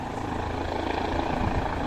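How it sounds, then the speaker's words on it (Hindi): A helicopter flies near the Kedarnath shrine in the Himalayan mountains, its engine and rotor giving a steady, fairly loud drone that holds without pause across the moment. "ये रहा भाई हेलीकॉप्टर"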